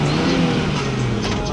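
A 4x4 trial car engine revs loudly on an off-road course, a brief close snarl of throttle with some outdoor shouting faintly mixed in.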